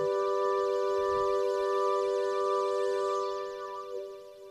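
An electronic organ's Extra Synth Goblin voice played on a keyboard holds a sustained chord with a shimmering, warbling haze above it, steady and loud, then fading at the end.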